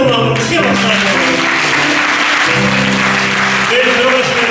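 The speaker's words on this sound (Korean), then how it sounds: "공동체가 함께 파송하고 축복하는 마음으로 크게 박수하시옵소서." A church congregation applauds loudly and steadily in a sending-off blessing for a mission team, the clapping carrying on under a speaking voice.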